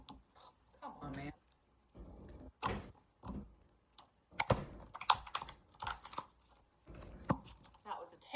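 A deck of tarot cards is shuffled by hand in short, uneven bursts of riffling and slapping, close and separated by brief pauses, with some quiet vocal sounds in between.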